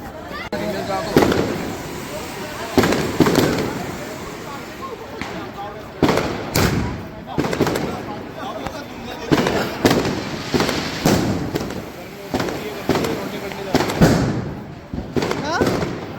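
Firecrackers burst repeatedly during Diwali in Manali, India, in sharp, loud cracks at irregular intervals, with people talking and general commotion in the background.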